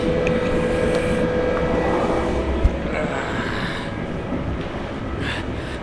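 A moving train rumbles steadily from inside a carriage, with continuous wheel and track noise, a faint squeal, rattles and one brief clunk, close and loud throughout.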